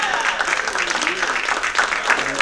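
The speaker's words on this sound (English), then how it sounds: "that deserves a good round of applause" An audience at a talk on communication between men and women gives a round of applause, dense continuous clapping that holds steady throughout with faint voices underneath.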